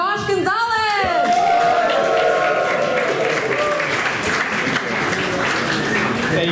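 A live event audience bursts into sustained applause with some cheering and whoops as a tech speaker is introduced at a product launch, following a brief announcer's voice at the start.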